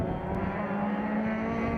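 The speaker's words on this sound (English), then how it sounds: "So 3 cars heading towards us now." Sports 2000 race cars race at Donington Park with a continuous, loud engine drone. The engines hold a steady pitch as the cars run together, with no talk.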